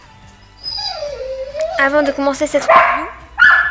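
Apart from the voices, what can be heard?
dog barking and whimpering in the distance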